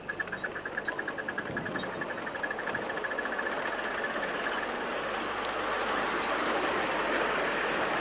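A miniature train on a 5-inch or 7¼-inch gauge model engineering society track rolls past with a steady rumble, rhythmic wheel clicks at first, then an even, continuous rolling noise.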